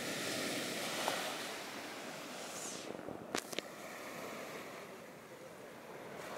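Waves rolling onto Silent Beach in Sri Lanka: a broad, continuous wash of surf with light wind noise, steady and moderately loud, and a few faint clicks midway.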